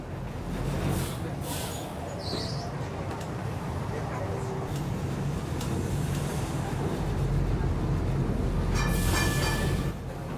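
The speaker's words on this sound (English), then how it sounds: "Its trams negotiate breathtakingly tight bends and astonishingly steep inclines." A Lisbon tram runs on rails through the city with a continuous low rumble and rattle, accompanied by a few squeals and clanks. A voice talks over the rolling noise for much of the clip.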